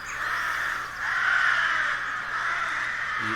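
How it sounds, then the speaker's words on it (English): Crows caw outside in a continuous, moderately distant chorus of harsh overlapping calls that rise and fall over a low steady background hum, with no talking. "the birds, you hear the birds crying a couple more times and then receding"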